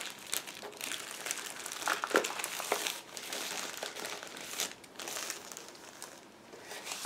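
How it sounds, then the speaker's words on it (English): Plastic crinkles and rustles as a bag is handled and opened, soft crackling bursts coming in uneven waves, close and fairly quiet. "open the plastic bag"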